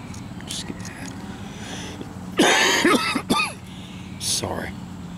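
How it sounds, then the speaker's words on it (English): A person coughs and clears their throat in a short burst of harsh coughs, close by, with some quiet sounds around it. "Excuse my coughing."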